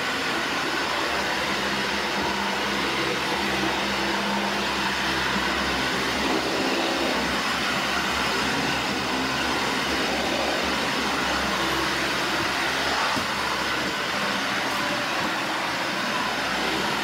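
A Dyson Ball Animal 2 vacuum cleaner runs continuously, producing a loud, steady whirring roar close by with no pauses or voices.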